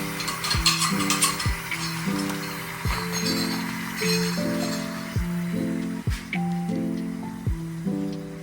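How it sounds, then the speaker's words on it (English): Spoon stirring sugar and water caramelizing in a small pan, with repeated scraping and clinking strokes in a regular rhythm, close and clear, with faint sizzling and background music underneath. "And then I am going to stir it."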